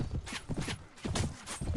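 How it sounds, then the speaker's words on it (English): Horses galloping in a cavalry charge in the video game Mount and Blade, a rapid rhythmic clatter of hooves with overlapping thuds, fairly close and busy over the whole stretch. "Cavalry charge."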